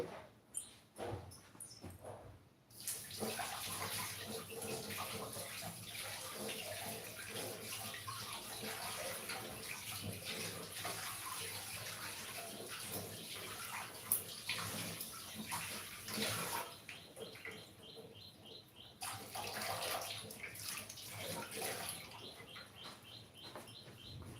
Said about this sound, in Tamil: மாவு கையை கழுவிட்டு வந்துடுறேன்